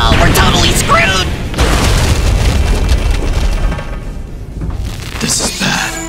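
A bomb goes off in an animated skibidi toilet episode: loud, sustained rumbling booms and crashing bursts fill the whole stretch, with frantic voices talking over the blast.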